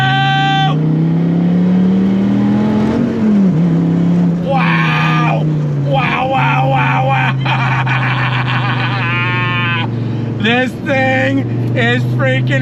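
A Dodge Viper GTS engine drones and rises in pitch as it revs and accelerates on throttle, a loud steady growl running throughout while someone talks excitedly over it.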